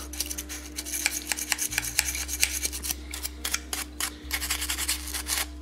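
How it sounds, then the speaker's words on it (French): Steady, brisk scrubbing with short rasping strokes as a toothbrush scrubs glue off a PlayStation controller, close by, over a low constant hum. "on va y aller à la brosse à dents carrément pour enlever la colle"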